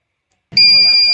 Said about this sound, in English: the buzzer beeps and the liquid is dispensed on my hand